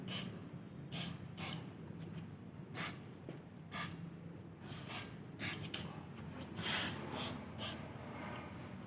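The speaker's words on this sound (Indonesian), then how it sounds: "lalu kita semprot dengan menggunakan fluid brake di bagian yang sudah kita amplas tadi" Short, forceful aerosol sprays of brake cleaner onto sanded brake parts hiss in repeated bursts, some brief and some longer, at close range against a quiet background.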